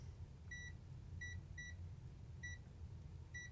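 A cheap multimeter's continuity buzzer sounds short, thin electronic beeps, some single and some in quick pairs, spaced irregularly over a low background hum.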